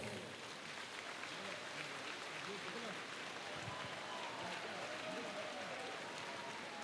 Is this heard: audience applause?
yes